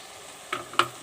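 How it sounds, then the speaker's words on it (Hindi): Cauliflower tipped into a pan of frying keema and tomatoes gives two short, close bursts of sizzle and clatter over an otherwise quiet kitchen. "अब हम इसके अंदर गोभी डालेंगे।"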